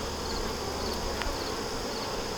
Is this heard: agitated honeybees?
yes